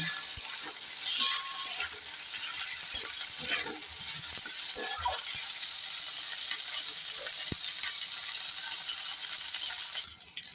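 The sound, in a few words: capsicum, onion and sweet corn lightly frying in a pan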